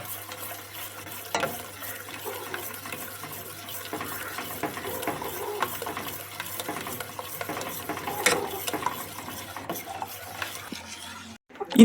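A spoon stirs carrot puree into warm china grass in a pan, giving soft, irregular scraping and wet swishing, faint and close, with occasional light clinks and a louder knock at the end.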